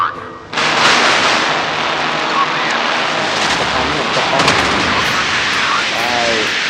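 Naval gunfire in the Modern Warships game during a fight with a Yamato battleship, a continuous dense roar of shots and blasts loud throughout, with game effects layered over it.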